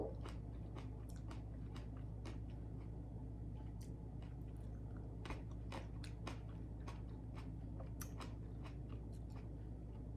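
A Dancing Green Fingers cherry-type tomato with crunchy skin being bitten and chewed close to the mouth, giving repeated soft wet crunches and squishes in an irregular rhythm, with no talking.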